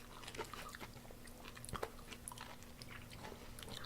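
Soft, unpleasant pickle being bitten and chewed up close, with a few crisp crunches among wet mastication sounds over a low steady hum.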